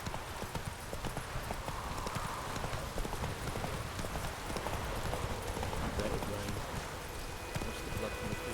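Galloping horse hooves clip-clopping in a fast, steady rhythm in The Witcher 3 video game, with dense overlapping hoofbeats over a rumbling bed of game ambience.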